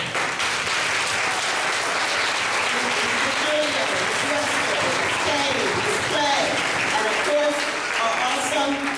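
A room of kindergarten ceremony guests applauds educators and staff, steady dense clapping throughout, with a voice speaking over it.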